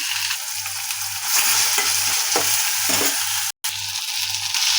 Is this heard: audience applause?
no